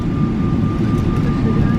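Air Canada airliner landing at Seoul airport, a steady loud cabin roar of engine and airflow with a faint constant whine, continuous and unbroken throughout.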